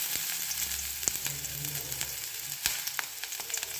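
Garlic hitting hot oil in a kadai sizzles steadily, with sharp spits and crackles popping out now and then and a low background hum; nobody speaks.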